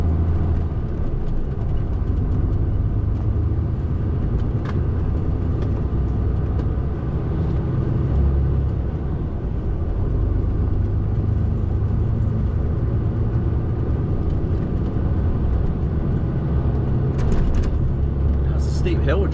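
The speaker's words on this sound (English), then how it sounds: "Steep hill we're driving up now." A car engine labours up a steep hill on a narrow country lane lined with hedges, giving a steady, loud, close rumble with road noise that holds for the whole stretch.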